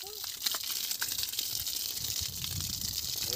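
Water gushes steadily out of a farm trolley being emptied after a day of washing chickpeas, a continuous broadband rush with faint voices in the background.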